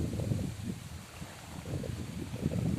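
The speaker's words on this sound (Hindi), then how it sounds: "इतनी हवा चलती है," Gusty wind blowing outdoors during heavy rain near a bitter gourd vine patch, a steady low rushing roar with surging buffets close to the microphone, no voices.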